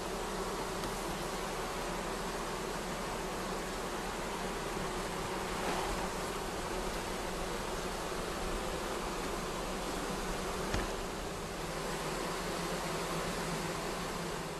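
Honeybee colonies hum in a dense, steady buzz with no pauses as they are moved into identical hive bodies, a thick swarm drone that stays even and close throughout.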